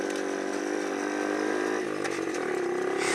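A small motorcycle engine revs in first gear, holding a buzzy, harmonic-rich whine that dips and then climbs again in pitch, loud and close throughout with no talking.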